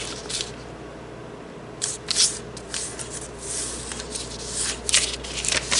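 Paper folded and unfolded while making an origami octagonal table, soft crisp rustles and creases coming in short scattered bursts, close and quiet over faint room hiss.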